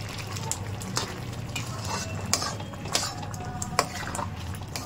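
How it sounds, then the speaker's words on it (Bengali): Carrot halwa being stirred with milk powder in a pan, with a soft continuous sizzle and intermittent scraping clicks of a spoon against the pan at close range, no voice over it. "এই যে একটু নাড়াবো, আবার একটু দেবো।"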